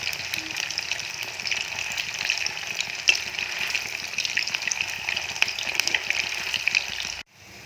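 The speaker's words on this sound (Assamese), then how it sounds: "ইয়াত এতিয়া লাড়ুকেইটা মধ্যমীয়া জুইত ৰঙচুৱা হোৱাকৈ ঘন ঘনকৈ লৰাই ভাজিম।" Paneer balls deep-frying in hot refined oil over a medium flame, giving a steady close bubbling sizzle with light stirring throughout, no voices.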